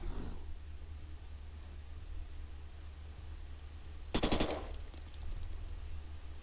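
Gunfire while shooting a Mega Zombie in a zombie-horde video game, with a short loud burst of shots in the middle over a low background rumble and some faint clicks.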